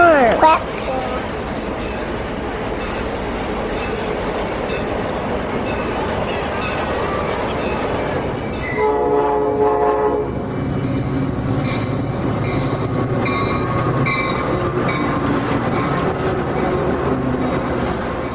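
Passenger train at a busy station platform near Chicago, its rumble and rattling carriages rising steadily and staying loud and close, with a dense tonal mechanical hum setting in halfway through as talk carries on over it.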